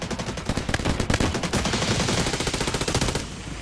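Bizon submachine gun firing in the mobile shooter game Delta Force Mobile: rapid, continuous automatic bursts, loud and close, rattling for several seconds before trailing off.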